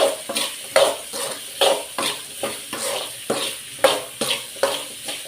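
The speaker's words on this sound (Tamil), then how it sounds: "கட் பண்ணி வச்சுருந்த உருளைக்கிழங்கு அதையும் போட்டு வதக்கிடுவேன்." Cut potatoes are sautéed in a pan, with a soft sizzle under rhythmic scraping strokes of a spoon, repeating roughly every half second, close and moderately loud.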